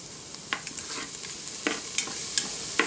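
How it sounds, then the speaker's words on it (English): Onions stirred and dry-sautéed without oil in an Instant Pot for butternut squash soup, giving a faint steady hiss broken by a handful of sharp scraping clicks from the spoon against the pot, close and quiet. "stir them and just add, you know, a little bit of liquid as needed"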